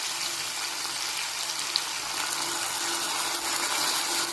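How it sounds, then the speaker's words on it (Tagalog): Soy sauce is poured into a pan of cooking chicken adobo with string beans, giving a steady, soft hissing pour with no one speaking. "Lagyan natin ng soy sauce."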